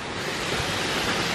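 Steady wind gusting outdoors in a sunny parking area beside a wall, a loud, constant broadband rush with no clear breaks, heard alone without talk.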